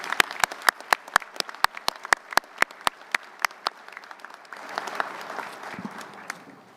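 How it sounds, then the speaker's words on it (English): A luncheon audience applauds performers: a run of sharp, evenly spaced claps rings out close by, then gives way to softer, scattered clapping and room murmur. "let's just have one more final round of applause for these superior performers"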